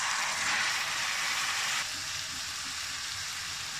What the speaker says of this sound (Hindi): टमाटर डाल दूँगी।